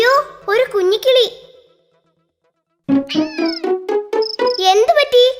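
A cartoon cat meows in a short run of high, rising calls, close and loud, then pauses before a longer burst of repeated meows.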